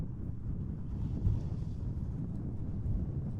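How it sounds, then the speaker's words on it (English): Strong, gusty wind buffets the microphone at Schiphol Airport in Amsterdam, a steady low roaring rumble with brief louder thumps, no other clear sounds above it. "Yeah, it's very windy."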